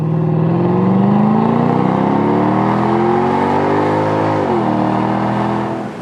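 Mercedes SLK55 AMG V8 with a single overhead cam revving loudly and steadily up through the range, a continuous close engine drone that rises in pitch, dips briefly near the end, then fades slightly.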